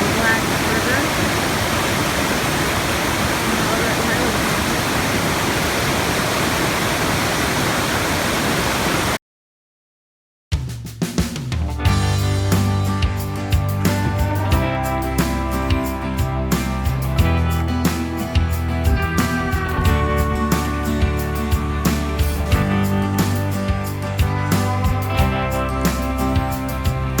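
Waterfalls on the Black River roar as a dense, steady rush of water for about nine seconds, then cut to silence, after which a different passage with music-like tonal sound follows.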